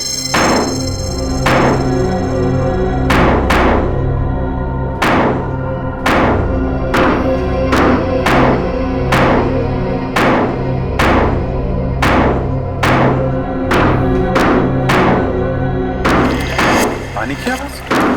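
A water tank is dug into and broken open in a TV crime drama scene: loud, close, heavy blows land in a steady rhythm, about one every second, over a droning background.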